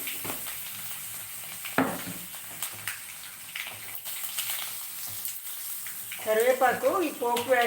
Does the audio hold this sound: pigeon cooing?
no